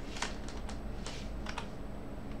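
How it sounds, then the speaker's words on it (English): Several quick, light clicks and thumps from a computer keyboard being bumped and tapped, close and fairly quiet, spread unevenly over a couple of seconds with no talking. "I just bumped my keyboard there."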